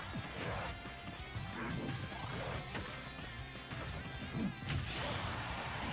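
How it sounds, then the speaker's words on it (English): King Dedede lands a heavy forward smash on Dr. Mario in a Super Smash Bros tournament semifinal. The crashing impact cuts through a dense, steady bed of game noise, with no voices heard. "Dr. Mario dropping his shield early, getting killed for it. King DDD's forward smash is one of the strongest"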